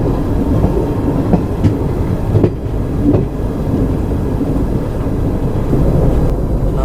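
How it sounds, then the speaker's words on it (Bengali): Jan Shatabdi Express train pulling into Ernakulam Junction, a steady loud rumble of rolling coaches with faint wheel clatter throughout, no voices. "একদম কারেক্ট টাইমে আমাদের ট্রেন ঢুকছে এর্নাকুলাম জাংশন"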